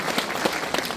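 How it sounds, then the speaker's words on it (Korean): Audience applause at a Korean education candidate's book launch event, a dense burst of many hands clapping close and loud for about a second. "여러분 큰 박수로 맞아 주시기 바랍니다."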